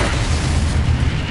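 The Confringo fire spell in Hogwarts Legacy lands as a loud, close, rumbling explosion with a heavy low boom sustained through the short moment, no voices over it.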